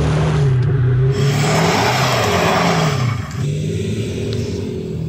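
Vans from VW, Ford and Mercedes straining against each other in a tug-of-war, engines droning loud and close with rising and falling revs, no voices heard.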